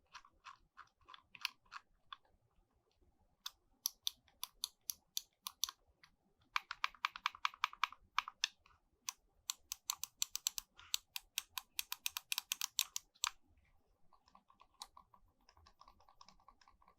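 Clicks from the silent switches of a Fantech Cruiser WG11 wireless gaming mouse, sharp, close taps coming singly and in quick irregular bursts, muted rather than loud, with no talking.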